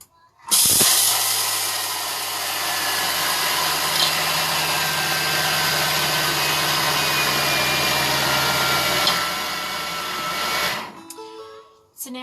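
Thermomix running at speed 9 for about ten seconds, blending sweet potato and zucchini into a batter for frittatas: a loud, steady whirring roar with a high hiss that starts abruptly, holds even, then winds down.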